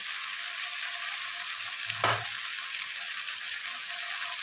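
Steady broadband sizzle of spices and homemade onion-garlic masala with coriander powder, red chilli and turmeric frying in a pan, with a single soft clunk of a spoon or pan midway; no talking.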